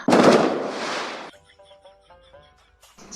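A Diwali firecracker goes off with one loud close blast that rings and decays for about a second, followed by faint scattered pops and crackles in the distance.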